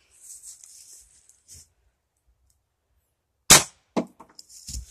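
Ruger Impact Max .22 pellet rifle fired outdoors at a target, one sharp crisp crack followed by a short thin echo and a couple of small clicks after a quiet stretch with faint hissing.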